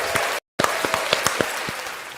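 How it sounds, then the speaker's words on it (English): Scattered hand claps ring out close by at a county public meeting, a loose, uneven round of applause broken by a brief dropout, with no speech over it. "that right there deserves a round of applause"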